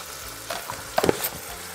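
Spices frying with minced mutton in a pan, a short burst of sizzle and a quick scrape of stirring, close by and brief.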